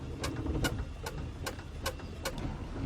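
A hand primer on a boat's fuel filter is pumped to bleed air from the line, giving a steady run of sharp squeaky strokes about every half second over a low background hum.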